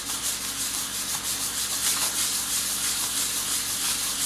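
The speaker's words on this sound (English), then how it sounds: "the first step I'm going to do is to sand off the surface wax" Steady, close sanding and rubbing as surface wax is worked off a Chinese name seal stone, a continuous loud abrasive hiss with a slight back-and-forth rhythm.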